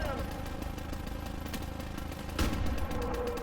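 Rapid MG-42 machine gun fire rattles in a World War II video game battle, a dense continuous stream of shots under engine rumble, with a louder burst near the end.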